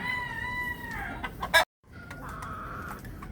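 Chickens and young chicks clucking and peeping close by, a steady run of calls broken by a brief silent gap and then more clucking.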